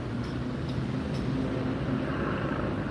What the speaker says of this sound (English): But you hear that flat hum in the background?